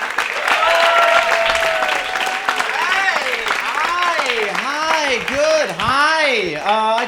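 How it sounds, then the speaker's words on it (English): Comedy-club crowd keeps clapping for the next comic, a broad steady patter of applause with a loud voice talking and calling out over it throughout. "keep that clapping going for next comic"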